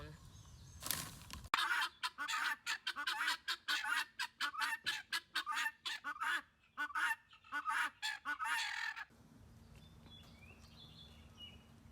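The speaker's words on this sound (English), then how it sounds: "we might have to go look at the guineas while these guys calm" Guinea fowl call nearby in a rapid, rhythmic series of harsh, repeated honking cries lasting several seconds before stopping abruptly, leaving faint outdoor background.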